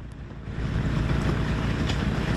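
Strong wind blowing across deep snow, a steady loud roaring rush that swells after the first half second and holds without a break, with no voices.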